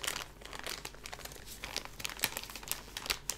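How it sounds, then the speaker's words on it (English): A brand-new plastic bag of cotton squares is opened up close, giving a quiet, busy run of crinkling and rustling plastic. "I'm going to also get some cotton squares out. Brand new bag just for you."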